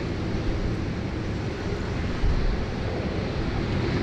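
An airliner takes off at Sydney Airport, heard as a loud, steady, broadband engine roar with wind buffeting the microphone, continuous for the whole stretch.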